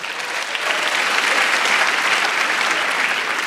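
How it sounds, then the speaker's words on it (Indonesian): Studio audience applause on an Indonesian television talk show, a loud, dense wash of clapping that swells slightly and holds steady throughout, with no speech over it. "Coba di sini yang follow Instagramnya Bedu boleh tepuk tangan"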